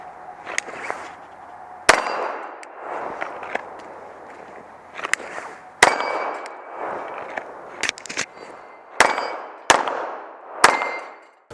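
Sig Legion SAO pistol shots ringing off 25-yard steel plates at a range: about a dozen sharp, loud reports spaced irregularly, each followed by a metallic clang from the targets.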